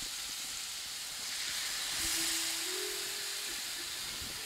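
Soy citrus marinade sizzles steadily in a pan around salmon fillets, a soft, even hiss with a brief louder swell as more liquid goes in.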